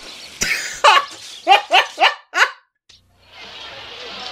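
A dog barks four times in a quick, evenly spaced series inside the FMV light gun game Gallagher's Gallery, close and loud, after a brief cough-like burst, followed by a gap and low background hiss.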